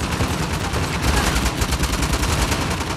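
Gunfire from the video game Uncharted: The Lost Legacy, a dense, loud stream of rapid shots with repeated sharp bursts that continue without a break for the full stretch, with no voices over it.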